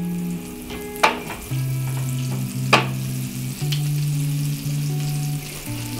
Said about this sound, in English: then we're gonna start searing our pork chops, or not pork chops, sorry guys, lamb chops.